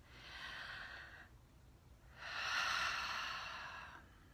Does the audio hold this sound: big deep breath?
yes